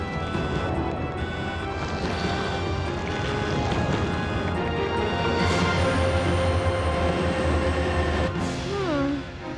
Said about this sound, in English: We have to stop the train, right?